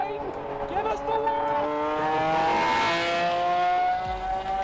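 A Bugatti accelerates on a summer evening in Utah, its engine note climbing steadily in pitch and building to a loud sustained roar, with people talking over it.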